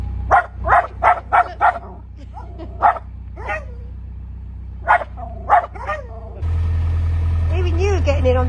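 An excited dog on a boat barks in quick yipping bursts, spinning about, close and loud, followed by a steady engine drone as people talk.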